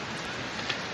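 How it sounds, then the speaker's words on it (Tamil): Heavy rain pours down in a dense, steady hiss with no breaks, filling the whole brief moment without voices. "எதிர்பார்க்காத மழை"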